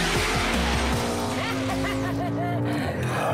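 A powerful car drifts at a tuning event, its tires squealing in long rising and falling wails over a loud, steady engine roar that fills the whole stretch.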